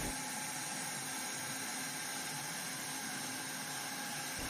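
A semi-automatic capsule powder filling machine runs with a faint, steady mechanical hum, unbroken and even throughout with no voices.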